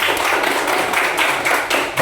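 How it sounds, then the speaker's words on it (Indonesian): A training class gives a group of participants a short burst of hand clapping, a dense, close, fairly loud patter of many hands lasting about two seconds. "kasih tepuk tangan"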